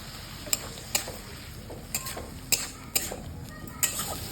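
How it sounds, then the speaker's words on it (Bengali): Chopped tomato and green chili sauté in a pan for an egg curry, a soft constant sizzle broken by about eight sharp spatula taps against the metal at an uneven rhythm. "আর দুটো লঙ্কা কুচি দিয়ে ভালোভাবে কষিয়ে নেব।"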